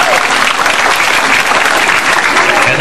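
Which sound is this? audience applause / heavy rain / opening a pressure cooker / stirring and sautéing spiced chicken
audience applause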